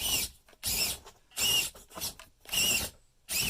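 The small electric motor of a custom Orlandoo Toyota pickup RC rock crawler whines in four or five short, high-pitched bursts as it strains while hung up on its rear axle, close up, with brief silences between the pulses.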